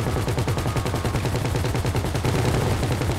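Rapid, continuous cannon fire in the GTA Online video game, a dense, loud, relentless stream of booming shots with no pauses, heard alone without voices.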